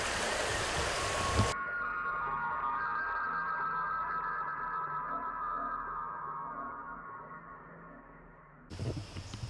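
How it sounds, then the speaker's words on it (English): Steady broadband rush of a river flowing beneath an old run-down mill, with a waterfall upstream, continuous and fairly loud throughout with no talking. "this is that river where the waterfall was up that way"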